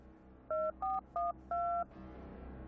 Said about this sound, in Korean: 어딘가로 전화하고 있는데?